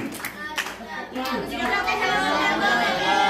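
Middle school students applaud together in a classroom after a traffic-safety quiz, a steady wash of clapping that builds slightly and carries on alongside children's chatter.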